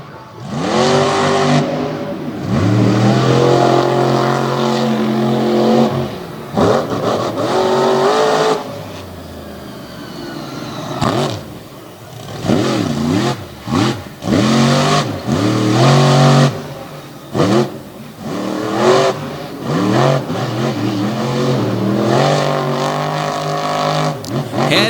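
Race cars roaring around Jennerstown Speedway in an all-star doubleheader, engines revving and surging continuously near and loud, with pitch sweeping up and down as cars pass, under commentary.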